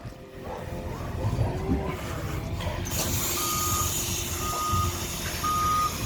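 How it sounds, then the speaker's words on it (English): Heavy truck reversing with its backup alarm sounding steady, evenly spaced beeps over a continuous diesel engine rumble and outdoor noise, fairly close and clear. "Can I hear the backup sound of the truck?"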